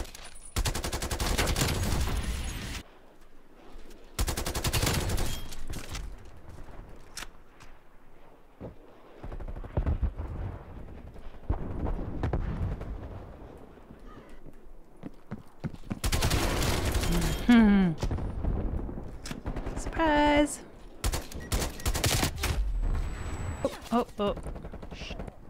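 Bursts of rapid gunfire in Call of Duty Black Ops Cold War multiplayer, loud automatic volleys separated by quieter gaps, with a voice talking between and over the shots.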